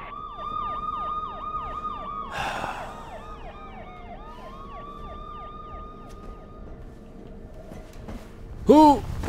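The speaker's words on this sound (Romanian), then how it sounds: "Aud poliția!" Wailing police sirens in the video game Mirror's Edge sweep up and down in a continuous, repeating pattern at moderate distance, with a brief burst of noise and a voice near the end.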